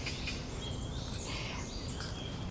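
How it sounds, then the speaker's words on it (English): Birds singing outdoors on a morning in Seoul, several high chirps and whistled phrases scattered over a steady low background rumble, moderately faint and not too close. "It's me and the birds."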